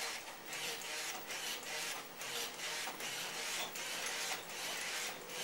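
The motor of a motorized prosthetic ankle runs with a steady, busy mechanical whir and a regular pulsing rasp that repeats several times a second, alone and fairly quiet.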